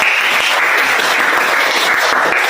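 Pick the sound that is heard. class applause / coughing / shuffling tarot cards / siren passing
class applause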